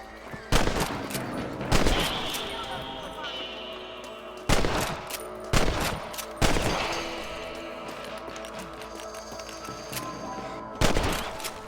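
Rifle shots at rabbits in Red Dead Redemption on Nintendo Switch: several sharp, separate cracks spaced a second or two apart, each ringing briefly, over quiet outdoor ambience.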